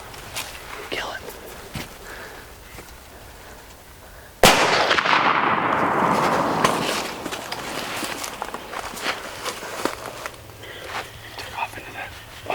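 A single sharp, loud muzzleloader rifle blast on an Iowa public-land deer hunt, booming and then slowly fading, with hushed whispering and rustling movement before and after.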